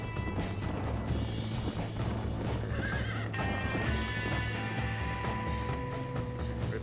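A horse neighs loudly while hooves clatter nearby, mixed with thuds and crashes in a busy Red Dead Redemption 2 game scene, no talking.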